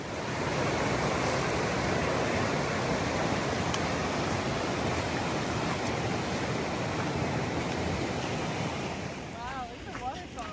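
Steady broadband rush of a waterfall along the Te Araroa trail in New Zealand, continuous and fairly loud with some wind noise, and a brief voice near the end.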